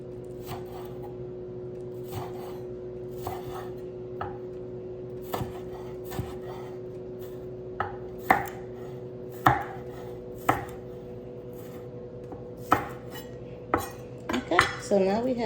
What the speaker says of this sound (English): I'm gonna slice up me a green onion.